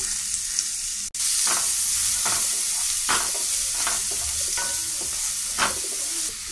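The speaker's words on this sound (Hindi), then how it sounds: "त्याच तेलात आपण कांदा परतून घेऊया।" Chopped onion fries in hot oil in a pan while making Maharashtrian palak paneer, a steady bright sizzle with periodic soft stirring scrapes and one brief clatter, no voices.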